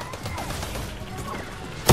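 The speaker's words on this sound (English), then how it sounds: "He just threw a fire jar." A fire jar thrown in Fortnite shatters with a sudden loud crash near the end, after a stretch of busy game noise and low rumble.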